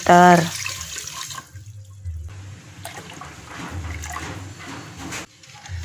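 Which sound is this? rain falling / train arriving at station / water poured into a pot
water poured into a pot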